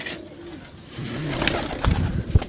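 Pigeons from a flock kept for pigeon-flying coo softly nearby in low, throaty calls, with light rustling and no one talking.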